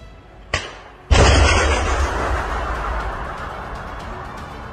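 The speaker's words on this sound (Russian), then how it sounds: "Есть. Внимание, выстрел!" A sharp bang of a Stugna-P anti-tank missile launch goes off, followed a moment later by a heavier blast that booms and rumbles as it fades away.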